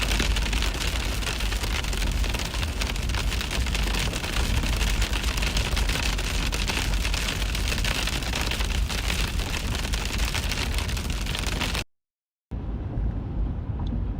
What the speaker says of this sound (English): Gorman's driving into hail, it sounds like right now. At least heavy rain. Maybe some small hail starting to come down here.